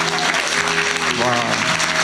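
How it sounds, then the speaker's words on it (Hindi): An audience at a Janmashtami devotional talk claps in a dense, continuous burst, with voices and cheering mixed in throughout. "ताली बजाइए इन सब लोगों के लिए।"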